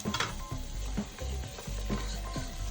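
Onions and garlic sizzle and crackle in a hot pan up close, with occasional clinks and scrapes of stirring.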